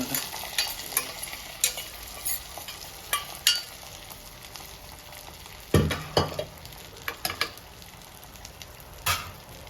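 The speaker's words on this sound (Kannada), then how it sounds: "ಈಗ ಒಗ್ಗರಣೆ ಎಲ್ಲ ಇದರೊಳಗೆ ಹಾಕ್ತೀನಿ." A spiced tempering is tipped into bisibele bath and stirred in a pot: a steady low sizzle broken by repeated sharp scraping stirs, close and clear with no one speaking.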